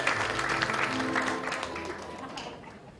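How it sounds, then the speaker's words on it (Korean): An audience applauds at an association's officer inauguration ceremony, a brief round of many hands clapping that starts full and fades away over a few seconds. "여러분 다시 한번 뜨거운 박수로 함께 해주시면 대단히 고맙겠습니다"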